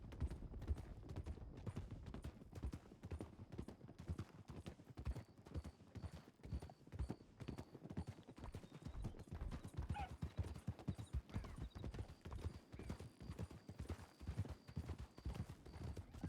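Steady horse hooves clip-clop throughout while riding in the WildRP western role-play game, a continuous even rhythm up close with a faint high tone drifting in partway through.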